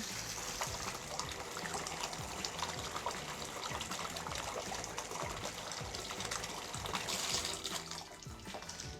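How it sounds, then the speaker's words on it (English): Water runs steadily from a Delta faucet over a thermometer held under the stream, a close, continuous splashing gush that stays even throughout. "Now we're going to take our thermometer and run it under the water and see where we're at."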